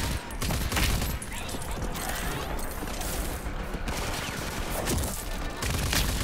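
Rapid gunfire rattles through a Rage 2 firefight as enemies are shot, with dense bursts and sharp cracks repeating throughout, loud and close over layered game noise.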